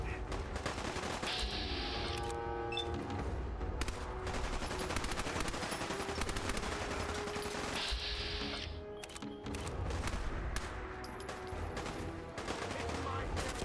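Rapid bursts of gunfire in Fallout 4, loud and continuous with overlapping shots and a clattering automatic rhythm, layered over game music and effects throughout.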